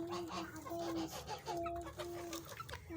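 Backyard chickens cluck close by in short, tonal, repeated calls that overlap in an uneven rhythm, quiet but clear over low background noise.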